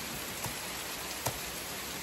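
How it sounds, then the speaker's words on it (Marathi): Rain falls outside a village house in the Konkan region during the Ganeshotsav season. A soft, even hiss runs throughout, broken by two faint tapping clicks. "बाहेर पाऊस"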